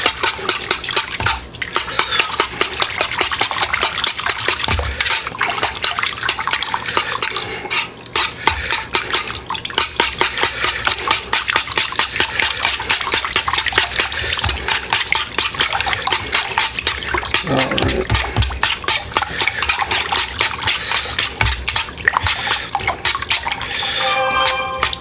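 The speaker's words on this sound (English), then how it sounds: "we'll put in our mushrooms in here, and we're just going to make sure that this is good and stirred" Mushrooms being stirred in a pan with a utensil for cheddar mushroom pork chops, giving repeated clinks and scrapes with soft sizzle and wet shuffling, steady and close for a long stretch.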